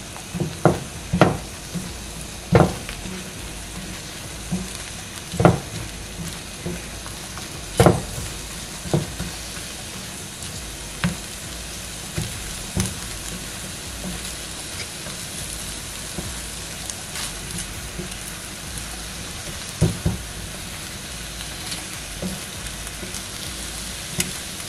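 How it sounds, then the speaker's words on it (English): Eggs frying in a cast iron skillet, a continuous soft sizzle with scattered sharp pops and crackles at irregular intervals, close by and otherwise quiet. "I just love cooking my eggs in this cast iron skillet."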